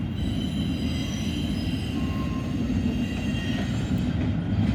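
A CSX freight train with a mid-train helper locomotive passes in northern Ohio, a steady loud rumble of rolling wagons with faint high wheel squeal, heard continuously and close with no voices.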